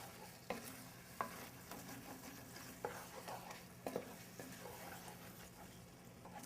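A pot of Cajun dirty rice jambalaya with fresh bay leaves is stirred, with a soft simmering sizzle under occasional spoon scrapes and knocks against the pot at irregular intervals, quiet and close.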